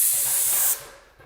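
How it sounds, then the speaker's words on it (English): An airless paint sprayer spraying trim paint lets out one loud, close hiss that lasts under a second and then cuts off sharply, leaving a quiet tail with no voices. "So let me spray right here."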